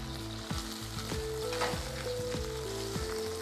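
Shrimp and other food sautéing in a pan with broth, salt and pepper, giving a loud, continuous sizzle broken by repeated stirring scrapes and clinks of the utensil, with no voices.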